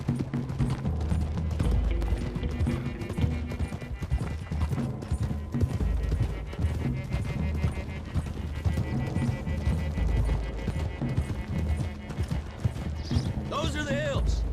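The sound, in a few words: horses galloping in Red Dead Redemption 2 video game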